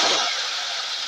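A car engine starting in the Roblox video game, a brief synthetic burst that settles into a bright hissing whine, lasting about a second.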